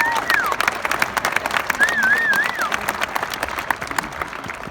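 Large crowd applauding at an Air Force Academy graduation ceremony, dense continuous clapping with crowd noise and a whistle rising over it, loud and sustained.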